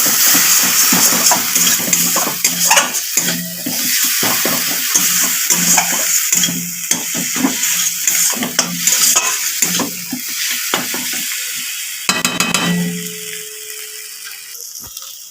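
Spice paste with turmeric and Kashmiri chili fries in oil for a cauliflower curry, sizzling loudly and close, with frequent scraping stirs against the pan and a brief watery splash near the end.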